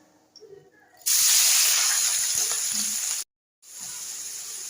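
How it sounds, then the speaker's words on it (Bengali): Prawns hit hot oil in a pan with a loud, bright hiss that holds for about two seconds, breaks off sharply, then resumes as a softer steady sizzle. "চিংড়ি মাছগুলোকে ভেজে নিচ্ছি"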